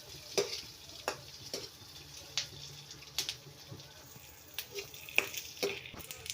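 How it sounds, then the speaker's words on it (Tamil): Capsicum and onion sauté in a pan for chicken chilli masala with a soft steady sizzle, broken by sharp clanks of a spoon stirring and scraping every second or so. Everything is close and moderately quiet, with no speech. "எல்லாம் போட்டு நல்லா ஒரு 2 நிமிஷம் நல்லா வதக்கி விடுங்க."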